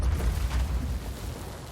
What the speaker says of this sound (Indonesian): mereka ini dengar ada suara ledakan yang ternyata itu adalah seekor babi yang nginjek sebuah ranjau